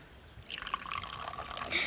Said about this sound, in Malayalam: ഈ മൂടി തുറന്നതിന് ശേഷം നമുക്ക് ഈ വെള്ളം ഇങ്ങോട്ടേക്കാക്കാം